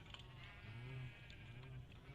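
A Minecraft sheep bleats softly near cows, a faint wavering bleat in the middle over a quiet, steady background.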